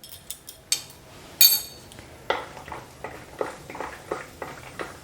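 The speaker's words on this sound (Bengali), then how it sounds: "চীনাবাদাম দিয়ে একটু নাড়াচাড়া করে নিয়ে" A spoon scraping and clinking against a wok while peanuts are stirred in hot mustard oil, a series of sharp metallic taps and scrapes at an uneven pace, close and alone.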